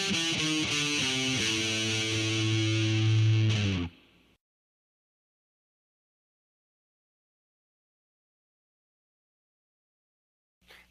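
A fast heavy metal lick on a heavily distorted electric guitar, a rapid run of notes lasting about four seconds, loud and up close, then cut off into silence with a brief faint sound near the end.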